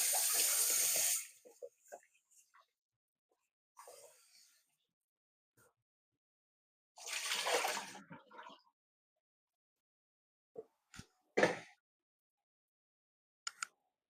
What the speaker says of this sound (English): So I'm going to wash these now.